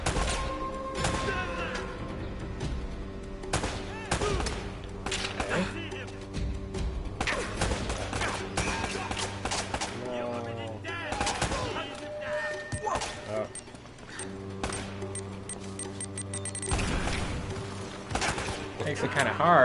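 Gunfire in the Uncharted: Drake's Fortune video game: repeated sharp shots and bursts scattered throughout, mixed with background music and frequent talking.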